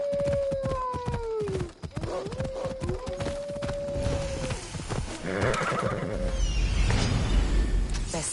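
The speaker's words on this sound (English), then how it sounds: "Looks like a sturdy horse." Horse sounds from the video game Assassin's Creed Odyssey: a loud, drawn-out whinny with a trailing neigh, then another long whinny, over hoof clops and ambient outdoor game noise.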